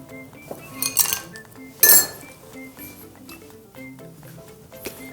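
Dishes and cutlery clink and tap repeatedly as rice is placed into a rice bowl, with a couple of sharper, louder clatters in between, close up and without talk.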